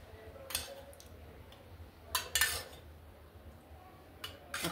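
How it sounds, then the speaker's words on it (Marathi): Spoonfuls of chia seeds dropped into a wood apple drink, heard as a few quick, light metallic clinks of a spoon against a glass or vessel, spaced irregularly in a quiet room, close but soft, no voices. "आपण साधारण 3 ते 4 चमचे चिया सीड्स टाकले"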